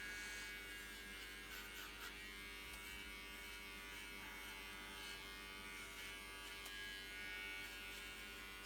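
Small cordless electric pet hair clippers buzz steadily and quietly during a dog haircut, a continuous close-up motor hum that barely varies.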